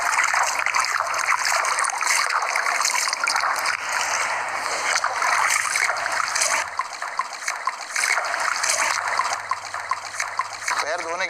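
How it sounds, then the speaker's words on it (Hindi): Water poured over the feet during wudu ablution, a steady trickling splash running nearly continuously, close and fairly loud, with a low hum underneath. "आप पानी लें और इस तरह पानी डालते जाएं और खिलाल करते जाएं"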